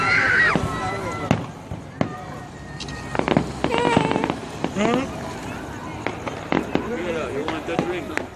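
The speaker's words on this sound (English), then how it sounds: "Fireworks them all." New Year fireworks over the Kingston waterfront in Jamaica, a string of sharp bangs and crackling bursts at varied distances, with people talking nearby between and over the explosions.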